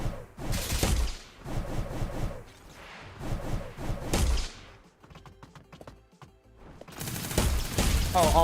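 Rapid gunfire from the shooter game Gunfire Reborn crackles in loud bursts of repeated shots, broken by a short lull filled with lighter electronic effects before the firing resumes.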